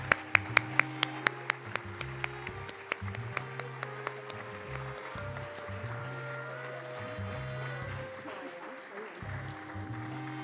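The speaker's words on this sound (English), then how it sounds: "Let's give them all a big round of applause." A crowd claps for award presenters at a rare-disease awards ceremony. The clapping is steady and moderate, with a series of sharp, evenly spaced clicks at the start, and a low voice and music-like tones sit underneath.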